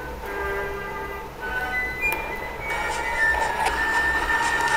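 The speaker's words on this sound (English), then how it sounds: "And the train will come in" In a Roblox game, a train pulls into a station with a steady rolling rumble, thin metallic squeals and ringing tones rising toward the end, all fairly loud and with no talking.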